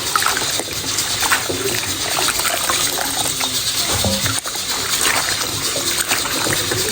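Taro leaves being washed by hand in water, with steady close splashing, sloshing and trickling that continues throughout, with no clear talk over it.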